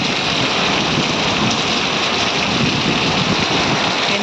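Heavy rain pours down during a windy storm, a loud, dense and unbroken hiss that carries on steadily throughout with no voices.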